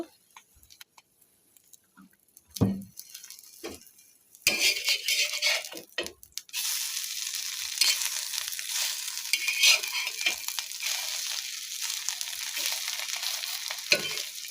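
Egg with onion and green chili frying in oil for a light toast tiffin, a few sharp clatters at first, then a loud steady sizzle and crackle that holds to the end.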